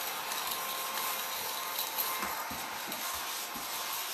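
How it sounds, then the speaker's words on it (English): A small vacuum cleaner runs with a continuous, close whirring drone while it picks up hot-glue debris from a floral Easter cross craft, accompanied by a few soft knocks and bumps. "Love my little vacuum cleaner."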